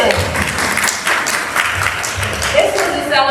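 A workshop audience bursts into steady applause, many hands clapping in a dense, continuous wash that fills the room, loud and sustained, with a voice talking over it.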